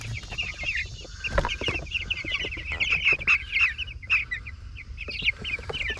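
Young chickens crowd a brooder on a homestead, giving a steady stream of close, overlapping cheeps and soft clucks with a few louder calls rising above the chatter.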